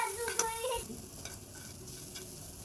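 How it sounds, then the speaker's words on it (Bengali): Egg is stir-fried with chopped onion and chili in a wok, starting with sharp scraping stirs over a sizzle and then settling into steady, softer frying. "এখন ডিমের সাথে ভালো করে নেড়ে চেড়ে রান্না করে নেব।"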